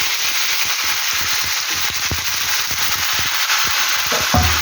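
Chicken pieces and cut potatoes fry together in a hot pan, giving a steady broadband sizzle with scattered crackles and pops, close and fairly loud, with no talking.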